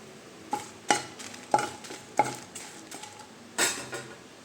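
Red chillies dry roasting in a pan, a spatula stirring them with a handful of sharp, irregular scrapes and clinks against the metal, fairly quiet.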